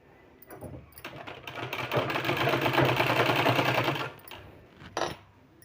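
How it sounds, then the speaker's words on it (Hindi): A sewing machine stitches two layers of fabric for a kurti, a fast, steady mechanical whirr running for about three seconds between brief starts and stops, close and clear. "दोनों लेयर को हमको बराबर से इस तरह से लेते हुए जाना है।"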